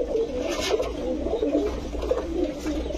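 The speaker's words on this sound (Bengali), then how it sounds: "এই হচ্ছে 4 জোড়া কবুতর" Pigeons in a pigeon shop, imported fancy breeds, coo in low repeated throaty rolls, several birds overlapping nearby against a dull background hum.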